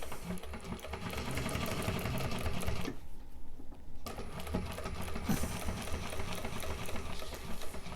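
A sewing machine runs steadily, back-stitching and sewing a straight line up the card slots of a fabric wristlet, with one brief pause in the middle before the motor resumes its fast, even clatter.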